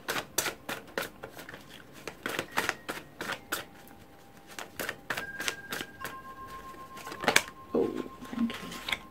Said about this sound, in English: I'm going to keep shuffling for the top row